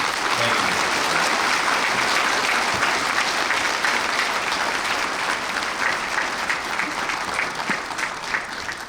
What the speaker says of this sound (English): Let's have one final round of applause for the 2024 Ivy Day royalty.